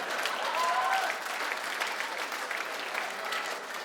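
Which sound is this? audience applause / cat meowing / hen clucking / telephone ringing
audience applause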